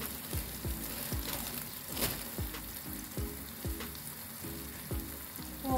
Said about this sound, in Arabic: غادي نشحر هاد البصيله ديالي نحمرها هكذا